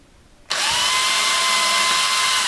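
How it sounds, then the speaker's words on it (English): A cordless drill bores a pilot hole into cherry hardwood, starting abruptly after a brief quiet moment and then holding a steady, loud whining drone close by. "I'm going to take my cordless drill, and I'm going to drill"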